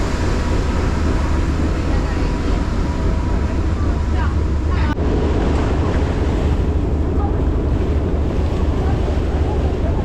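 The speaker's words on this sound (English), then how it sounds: "You get this nice breeze, you hear the swish swashing of the water." Small Hong Kong ferry on the water during a short crossing, with a steady wash of water and wind buffeting the microphone throughout, a continuous broadband rush with no clear breaks.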